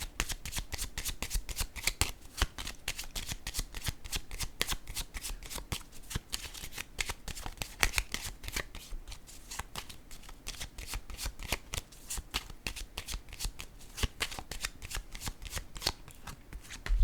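Tarot or oracle cards being shuffled continuously and close up, a dense rapid riffle of card edges slapping together that carries on steadily for the whole stretch with no talk.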